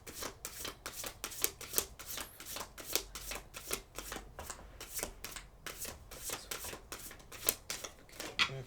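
Oracle advice cards being shuffled by hand, a steady run of crisp riffling flicks repeating through the whole stretch at moderate, close range with no talking.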